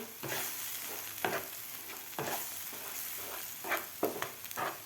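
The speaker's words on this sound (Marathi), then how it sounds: "चमच्याच्या सहाय्यानं आपल्याला व्यवस्थित हे थोडंसं असं मोकळं मोकळं करून घ्यायचं आहे" Egg bhurji sizzles gently in a pan while a spoon stirs and breaks it up, giving repeated scraping strokes at an uneven rhythm, close by and with no talking.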